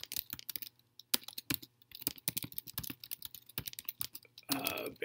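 Quick, light clicks of typing on a computer keyboard, keys tapped in irregular bursts with short pauses, close and fairly quiet, ending in a brief louder rustle.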